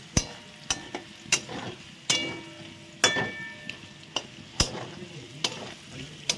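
Soft sizzle of cumin seeds and potatoes frying in a pan punctuated by sharp metallic clinks of a spatula stirring, several strikes at irregular intervals, fairly quiet and close.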